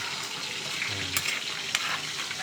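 Milkfish (bangus) frying in oil, a soft continuous crackling sizzle at a moderate distance with a couple of sharp pops, steady and without talk.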